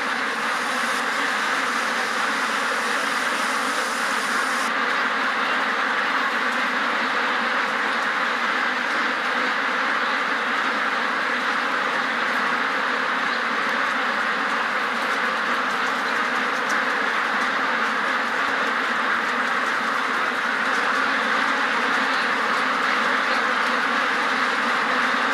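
A huge flock of ducks at a big UK intensive duck farm, with constant dense quacking merging into a loud, unbroken roar for the whole stretch and no talking.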